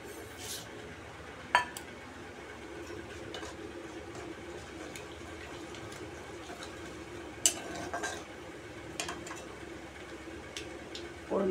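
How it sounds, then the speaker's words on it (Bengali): Dried red chilli and mustard seeds sizzle in hot oil as a tempering for radish chhechki, a steady soft crackle with a few sharp utensil clinks. "দিয়ে দেবো একটু শুকনো লঙ্কা আর সর্ষে ফোড়ন।"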